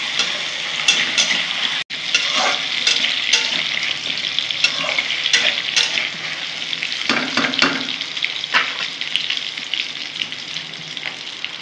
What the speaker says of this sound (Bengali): এখানে আলু আছে আর মিষ্টি কুমড়ো আছে, দেখো এগুলো একটু ভাজা ভাজা করে নেব।